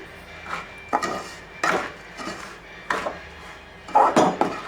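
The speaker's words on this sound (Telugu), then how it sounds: "దీనిలో రవ్వను యాడ్ చేసేసుకుందాం కలుపుకుందామండి రవ్వను మొత్తాన్ని దీనిలోకి ఇలా కలిసే వరకు కలుపుకోవాలి" Semolina being stirred into a beetroot mixture in a pan for beetroot rava laddu, heard as a series of scraping, knocking utensil strokes against the pan at an uneven rhythm, close and fairly loud, with no talking.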